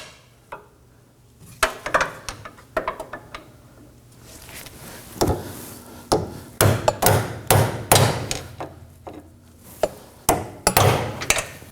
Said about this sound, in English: now we can hammer both of these sides to lock it into place